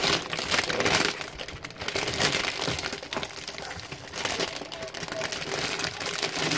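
Plastic wrapping crinkles and crumples continuously as it is pulled off a new gaming keyboard, a dense, close rustle with a few sharper crackles throughout.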